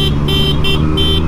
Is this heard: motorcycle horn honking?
yes